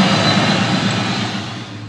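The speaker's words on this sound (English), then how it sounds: "You can hear the power steering pump a little bit," A cold 1990 Ford Mustang 5.0 Foxbody idles smoothly with its power steering pump running, giving a loud, steady, close engine drone with no one talking.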